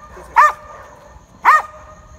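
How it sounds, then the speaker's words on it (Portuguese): A dog in Argentina barks twice, two sharp, close barks about a second apart, with quiet pauses around them. "Esses cachorros da Argentina são diferenciados."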